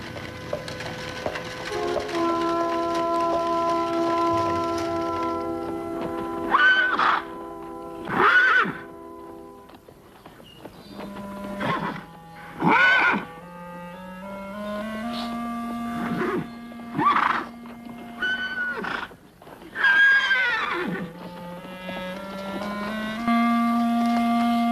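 Horses in a Western drama setting neigh and whinny repeatedly, several loud, shrill calls rising and falling in pitch, spaced a few seconds apart over quiet background with faint hoof clatter.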